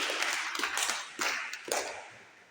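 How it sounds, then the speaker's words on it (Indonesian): A small audience at a social media talk claps in a few loud, scattered bursts that fade out quickly, with no speech. "Tepuk tangan."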